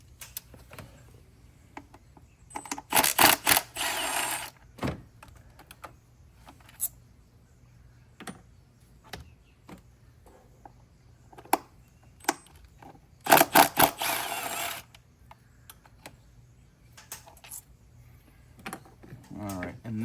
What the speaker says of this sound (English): Remove all of our screws holding in, or bolts holding our coil packs in.